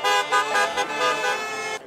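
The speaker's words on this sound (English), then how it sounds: "It was a honk and go for Mo" Car horns honk in a steady, loud blare at a drive-by parade celebration, several horns overlapping with brief pulses before cutting off.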